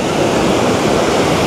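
Large ocean waves breaking at a surf beach in the Philippines make a loud, dense, continuous roar of rushing surf, with no voices heard.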